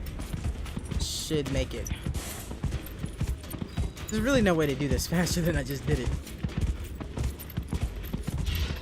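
Rapid rhythmic hoofbeats of a galloping horse in Dragon Age: Inquisition run steadily beneath someone talking, with music and other game effects layered in.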